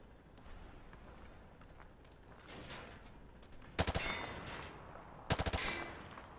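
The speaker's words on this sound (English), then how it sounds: "Grab that weapon off the table and fire at the targets behind you" Gunfire aimed at targets in Call of Duty Modern Warfare 2 Campaign Remastered: two sharp bursts of rapid shots, the second a few seconds after the first, rising above a steady low game background.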